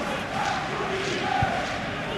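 Disgruntled stadium crowd in the PES 2025 football game at a Champions League match between Liverpool and Bayer Leverkusen, a steady broad roar of murmuring and jeering fans that holds at an even level throughout, with a brief low thump partway.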